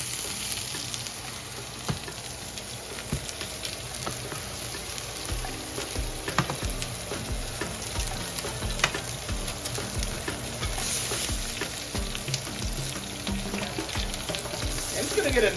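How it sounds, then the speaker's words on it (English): Steak searing in a hot cast iron skillet with olive oil, a dense, continuous crackling sizzle with scattered pops, close and steady for the whole stretch with no talking. "A lovely sizzle going on here."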